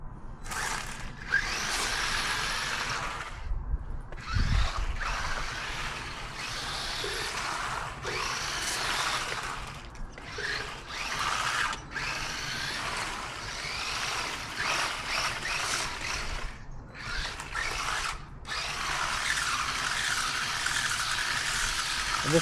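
An HPI Maverick Desert Truck, a 1/20 scale RC car, splashes through water, giving a continuous rushing, whirring spray with brief gaps and bursts, close and fairly loud.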